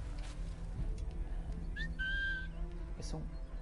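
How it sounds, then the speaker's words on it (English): A short whistle in Assassin's Creed III Remastered, two rising then steady tones cutting through quiet game ambience, with a faint voice nearby. "Whistle."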